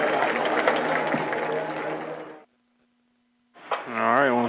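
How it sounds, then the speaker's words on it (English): Crowd applause for a high school marching band at a football game halftime, a broad sustained clapping roar for a couple of seconds that cuts off, followed after a pause by a voice. "How about one more big round of applause for your King Mountain High School Marching Mountaineers"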